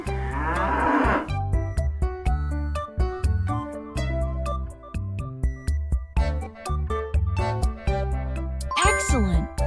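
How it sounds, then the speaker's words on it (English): A bull moos once near the start in a children's animal quiz, followed by a cheerful, loud musical jingle with bright chimes and rhythmic beats that fills the rest of the short stretch. "Bull!"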